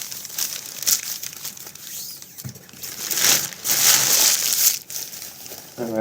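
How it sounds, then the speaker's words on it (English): Tightly wrapped packing paper is pulled open and crushed, giving loud bursts of crinkling and tearing that rise and fall irregularly at close range. "Paper. And more paper. Oh, we wrapped it really tight."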